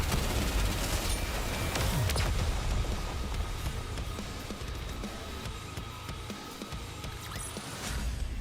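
Dense, continuous gunfire from the Nikke video game, layered rapid shots over a loud, busy battle mix with no talking.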